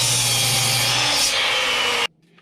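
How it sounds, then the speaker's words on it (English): A saw cutting through a 2x4 wooden board at a stop block, a loud continuous rasping cut that ends abruptly, leaving near silence. "I'm going to cut these 2x4s at 10 3/8 inches"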